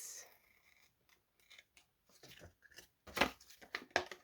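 Scissors snip and trim paper for a shabby farmhouse junk journal, starting with a few faint cuts and building to louder, close crisp snips near the end, with no talking.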